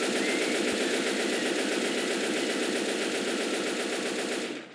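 Explosive rounds pour from a gun in Left 4 Dead 2, one dense unbroken burst of loud rapid fire that runs almost the whole time and then cuts off abruptly.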